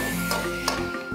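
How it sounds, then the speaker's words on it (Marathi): Tempering for a Konkan-style jackfruit curry sizzles in a wok after a sprinkle of water, a steady close crackle with brief louder bursts, then quieting toward the end. "आता थोडं याच्यावर पाणी शिंपडायचं म्हणजे जी फोडणी आहे ना"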